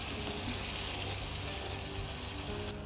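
Water is added to a fish curry on the stove, making a continuous, even rushing and sizzling hiss that holds steady throughout with no one talking.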